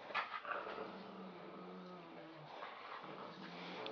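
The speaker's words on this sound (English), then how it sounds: "I hear him growling." Low, rumbling growls come from a black Chinese pug playing with its owner and a Rottweiler, soft and intermittent, with a brief yip early on and faint background noise.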